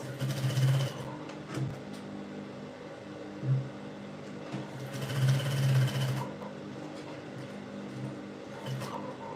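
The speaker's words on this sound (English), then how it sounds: "So you can see the way I'm sewing it." Sewing machine stitching the seams of a peplum blouse, a rapid mechanical whir in several short bursts with brief pauses between, close and fairly quiet, with no talking.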